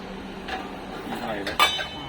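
A heavy 18-gauge steel saucepan being handled, giving a few metallic knocks and a sharper clank near the end, with a voice talking underneath.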